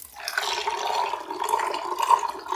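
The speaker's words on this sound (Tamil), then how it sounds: "இப்படிக்கு மேலே கீழேயும் ஆற்றி" Liquid poured up and down between two vessels to cool it, at an office pooja celebration: a continuous close splashing stream with gurgling, fluctuating slightly as the pour rises and falls.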